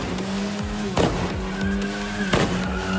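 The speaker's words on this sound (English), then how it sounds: "That's actually a car backfiring multiple times." A car backfires several times outdoors at a protest, loud sharp bangs around one and two and a half seconds standing out over a steady engine hum and street noise, with no talk.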